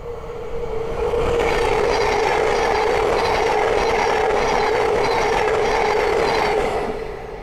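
A Thameslink Class 700 electric train on the East Coast Main Line at Great Wymondley passes close by, a loud sustained rush of wheels and motors that swells in and fades slightly at the end.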